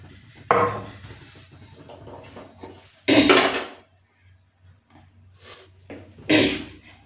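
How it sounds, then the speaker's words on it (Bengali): Hot oil is poured into a gram flour batter and stirred with a utensil, producing several loud scraping and clattering bursts against the bowl, separated by quieter stretches of faint sizzling. "এই গরম তেল একটু আমি বেসনটার মধ্যে দিয়ে দেবো"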